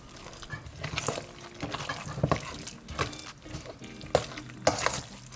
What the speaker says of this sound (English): you put everything in a bowl and a little bit of palm oil, just eyeball it and mix everything together